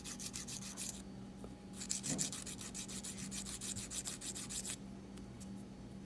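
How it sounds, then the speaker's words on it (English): Nail file rubbing back and forth across a fingernail, a steady run of close, rapid scratchy strokes in bursts with brief pauses, heard alone. "Move to the next finger and rub the filer on the uneven parts of your nail."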